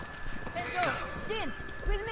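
Horse hooves clip-clop in the Ghost of Tsushima video game, quick uneven hoofbeats of horses moving through the scene under spoken dialogue and other game sounds.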